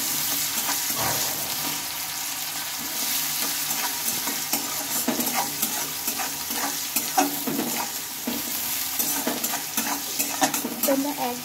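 Chopped onions fry lightly in a pan while a spoon stirs them close by, giving a soft continuous sizzle broken by scraping and clinking pulses, with no voice.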